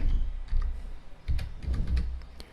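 Someone types a command into a Windows command prompt on a computer keyboard: close, irregular bursts of key clicks and clacks with short pauses between them, and no voice.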